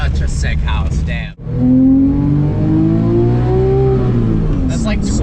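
A Porsche 911 GT3 RS 997.2 with manual gearbox runs at light throttle, a smooth rising engine tone after a brief gear-change dip, heard from inside the car with a voice talking over it at the start and end.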